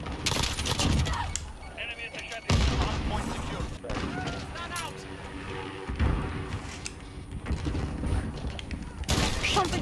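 In the video game Modern Warfare, a Kilo 12 gauge shotgun fires in sharp, loud blasts at irregular intervals, mixed with other game gunfire and effects, close and punchy over a busy game soundscape.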